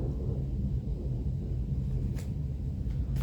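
Thunder from a storm rolls as a deep, steady rumble that fills the whole stretch, loud and unbroken, with a couple of faint sharper crackles near the end and no voices.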